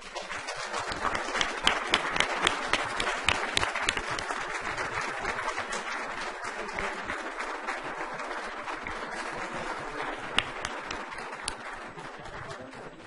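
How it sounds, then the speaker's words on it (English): A crowd at a business meeting claps steadily and warmly for over ten seconds, a dense, even applause with a few sharper claps standing out. "get a round of applause here"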